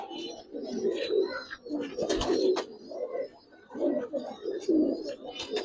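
Pigeons coo in a loft, with repeated low, throaty cooing phrases rising and falling close by, a few brief sharper sounds mixed in, and faint human voices in the background.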